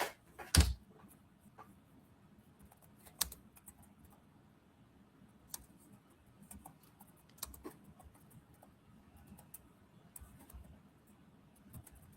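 Computer keyboard keys are tapped in short, irregular bursts of light clicks, quiet and close, with a sharper knock near the start and no talking.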